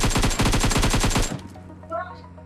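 Rapid automatic gunfire from the mobile battle royale game PUBG Mobile, a loud, fast string of about a dozen shots lasting over a second before stopping abruptly into quieter in-game sound.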